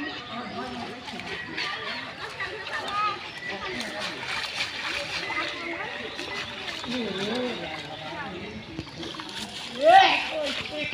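A fishing net is washed in a village pond, with repeated splashing and sloshing water under ongoing talk, and a sharper splash near the end.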